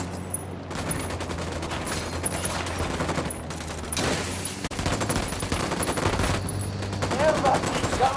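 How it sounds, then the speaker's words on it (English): Rapid, sustained automatic gunfire in the video game Ghost Recon Wildlands, a dense crackling stream of shots near and loud, with voices talking underneath throughout. "opening fire on these fuckers"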